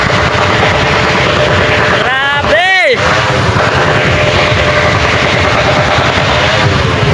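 A motorcycle engine revs hard at a New Year's celebration, a loud close roar with a rising and falling sweep in the middle, continuous throughout over crowd noise and voices.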